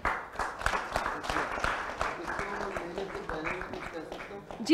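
Audience applause at a memento presentation during an on-stage interview session: a dense, sustained patter of many hands clapping, fairly loud throughout, with voices mixed in underneath.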